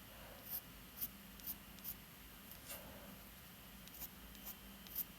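An indentation tool scratches fur lines into paper, short quiet strokes repeating about every half second, close and soft over a faint room hiss.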